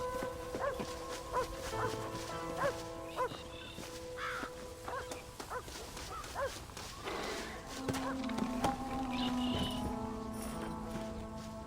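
Dog barking in the Red Dead Redemption video game, several short barks scattered among horse hoof clip-clops and outdoor ambience, moderately near, with a faint voice in the background.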